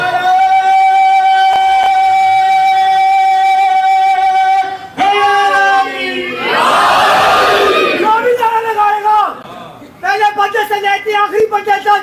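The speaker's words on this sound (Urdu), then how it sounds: "آخری بچے تک مل کر نعرہ مارنا ہے" At a Shia majlis for the martyrdom of Imam Hassan, a loud amplified voice leads a religious slogan and a large crowd answers together in a brief, rough roar midway before the lead voice resumes.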